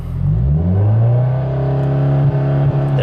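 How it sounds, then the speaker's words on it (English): A Subaru WRX engine revs up to about 4000 rpm and holds there, a loud, close, sustained engine drone with a rising pitch and no talking. "I'm gonna rev it to 4 and set it."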